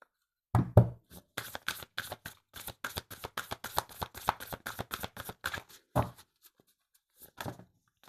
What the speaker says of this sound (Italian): Andiamo a vedere un'ultima carta da parte degli oracoli